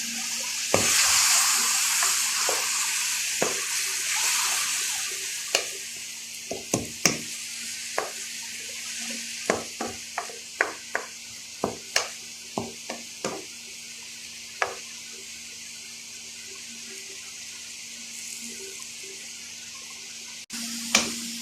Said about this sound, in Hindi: अच्छी तरह चमचा हिलाएंगे ताकि ये, अब इसमें हम थोड़ा सा पानी डालेंगे